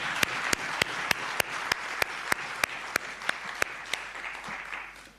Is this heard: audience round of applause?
yes